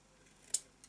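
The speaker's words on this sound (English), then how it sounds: "this pinky fibrous material is brilliant. It can easily be cut with" Scissors make a single crisp snip through pink fibrous gasket material, followed by a fainter second snip, close up in a quiet room.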